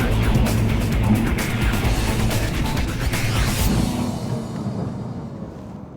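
A Lotus Evora S IPS sports car's engine roars at high speed on a circuit, loud and close, then fades away into the distance toward the end.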